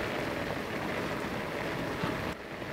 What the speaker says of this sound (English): as it was going up, it started raining on me, so I got a tiny little bit wet.